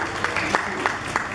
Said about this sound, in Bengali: সবাই জোরে হাততালি দেবেন প্লিজ।